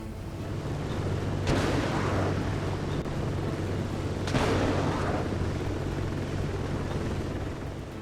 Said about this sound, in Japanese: 36発も発射できる高火力のロケットです